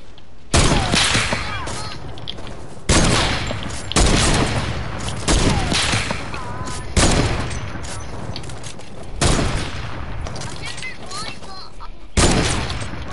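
Heavy sniper rifle shots boom out one at a time in a video game no-scope battle, sharp loud blasts spaced a few seconds apart over a steady background of game ambience.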